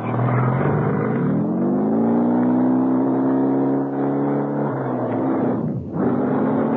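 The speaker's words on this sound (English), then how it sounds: "I grabbed the messenger's bike and raced towards headquarters." A messenger's motorbike revs hard and races off, its engine note climbing steadily and loud and close throughout, with a brief dip near the end before pulling away again.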